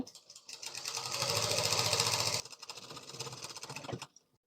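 An electric sewing machine runs continuously, stitching the side seam of a churidar. Its rapid rattling whir builds up, drops slightly in pitch and level midway, then stops after about four seconds.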